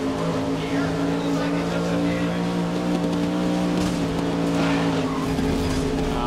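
Race cars roar together in a GRID career-mode event on PS4, engines droning steadily with layered whines, close and loud, with faint tire noise and a voice speaking over it.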